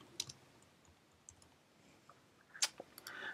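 Faint, sparse clicks of a computer mouse at a desk, a couple of crisp isolated taps including a sharper double click near the end, over a quiet background.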